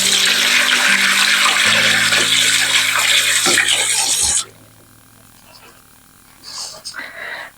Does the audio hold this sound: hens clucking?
no